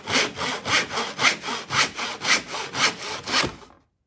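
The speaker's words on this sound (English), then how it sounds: "They can hold the saw, do the sawing." Hand saw cutting through wood for a simple wooden box, about a dozen rhythmic back-and-forth rasping strokes, close and steady, ending abruptly in silence.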